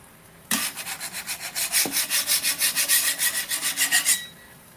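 A paint scraper rasps back and forth across a flat-top cooking griddle in a quick, steady series of about a dozen rough strokes, loud and close, with no talking.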